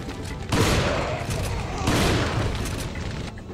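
Gunfire in the Resident Evil 4 video game as an enemy is shot, two loud bursts of game shots in quick succession over a busy in-game soundscape, with a voice talking faintly underneath.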